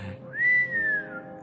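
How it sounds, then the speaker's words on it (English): A single human whistle, a smooth tone rising then holding and gently falling over about a second, clear and close, whistled at the northern lights as an old tradition. "Just keep whistling and that aurora will just like, you can almost hear it."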